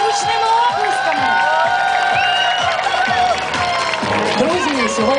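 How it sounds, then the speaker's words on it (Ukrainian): A crowd in a town's central square cheers, whoops and claps for athletes at a morning Olympic exercise event, loud and continuous, with children's shouts and an announcer's voice running over the noise. "Вітайте гучними оплесками!"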